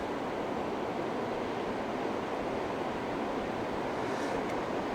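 Strong wind at Oysterville Beach buffets the microphone with a steady, loud, broadband roar that never lets up, and no voices are heard.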